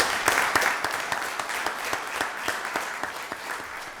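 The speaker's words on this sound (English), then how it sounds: "So again, let's give DA Johnson another round of applause." Steady applause from an audience at a county board of commissioners voting session in Rockdale County, dense overlapping claps sustained at even loudness throughout, with no talk over it.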